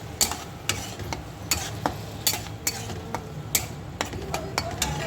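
Pasta sauce being stirred in a pan, with a utensil repeatedly scraping and clinking against the metal in a steady rhythm over a low simmering sizzle, close and clear, with no talking.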